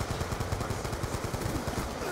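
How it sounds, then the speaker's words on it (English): Shotgun and gunfire in the Black Ops 2 video game, a dense rapid run of repeated shots at a steady pulse, loud and close with no talk. "Fucking shotgun."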